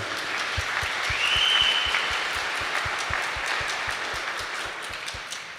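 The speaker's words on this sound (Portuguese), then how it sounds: "Uma salva de palmas para a mestra." A church congregation applauds steadily during a homily with dense, even clapping throughout, swelling slightly in the middle before easing off.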